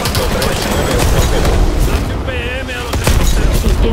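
Gunfire in the video game Call of Duty: Advanced Warfare, loud rapid bursts of shots and booms running throughout, with voices talking over the battle.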